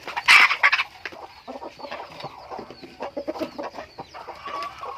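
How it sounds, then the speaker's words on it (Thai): A mother hen with her young chicks on a farm lets out a loud squawk at the start, then keeps up irregular, close clucking in short bursts. "นี่เป็นไก่แม่ลูกอ่อนนะครับ"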